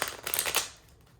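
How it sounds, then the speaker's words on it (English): A brisk riffle of tarot cards being shuffled, a few quick papery bursts close by, fading to quiet at the end. "A few shuffles and we'll get started."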